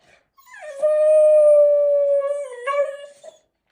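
A trained dog howls once in a long, steady, sustained howl that wavers slightly near the end, loud and close, with no talking over it.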